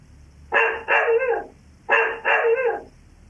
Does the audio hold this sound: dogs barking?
yes